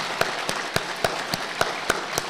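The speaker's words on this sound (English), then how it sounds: "could we have a very large round of applause for all of these" Audience applause for Year 11 students at a school leadership speech event, heard here as a sparse run of separate sharp claps at a steady rhythm, fairly close and clear rather than a full crowd roar.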